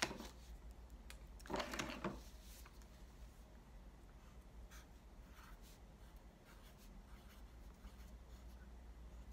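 Writing a greeting on a Father's Day card, heard as faint scratchy marker strokes in a quiet room with one louder rustling burst near the start, then soft intermittent scratches over low background hum.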